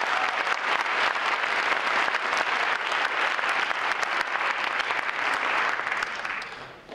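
Steady, full applause from an audience honoring Newton North students fills the room for several seconds, loud and even throughout before tapering off at the end.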